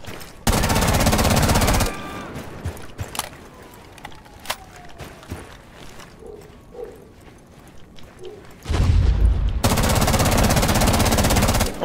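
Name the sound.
gunfire in the video game Rainbow Six Siege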